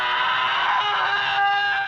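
A sustained, strained human scream rings out in a brutal indie film scene, a single loud cry held for about two seconds before cutting off abruptly.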